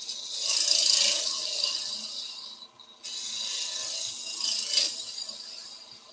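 A bowl gouge shaves wood on a turning lathe in a woodturning project, a steady hissing rasp in two long passes with a brief break midway, close and fairly quiet with no talk.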